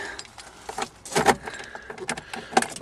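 Car keys for a VW Scirocco GTX jangle close by in a few quick metallic bursts, a brief rattle and clink, with a faint car interior in the background.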